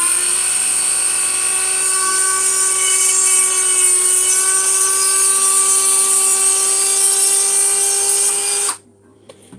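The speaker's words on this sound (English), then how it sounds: "this is quite a thin bone, so it's a little bit more awkward to drill" A high-pitched drill with a 2mm bit whines steadily into thin bone for nearly nine seconds, close and loud, then cuts off abruptly.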